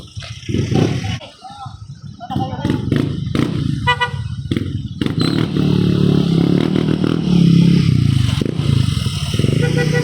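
Motorcycle engine and horn aboard a passenger boat as riders crowd to get off, with clattering and scraping close by and a busy, noisy, continuous din.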